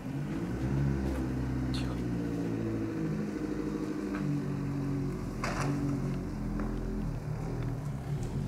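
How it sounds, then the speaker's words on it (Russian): A car engine rumbles steadily nearby and builds slightly as the vehicle approaches, a continuous low drone with faint higher noises on top. "Походу сюда кто-то едет."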